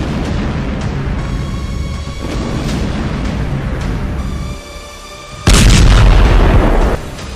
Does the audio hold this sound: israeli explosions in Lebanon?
yes